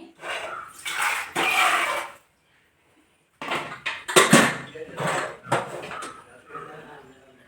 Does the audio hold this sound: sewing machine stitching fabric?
no